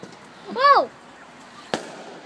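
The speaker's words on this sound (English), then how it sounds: "Fireworks! Fireworks!" At a Victoria Day display, a person exclaims loudly, and a single sharp firework burst cracks out moments later against a quiet night background.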